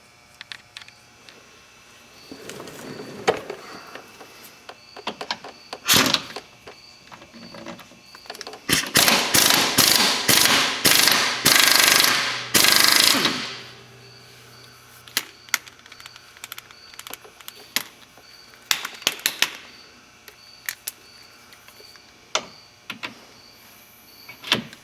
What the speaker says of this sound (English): I'm going to get my wrench on this thing